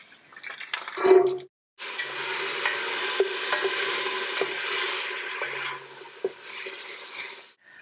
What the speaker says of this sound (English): we have the vegetables that we prepped earlier: carrot, onion, celery. And I'll just pop those in.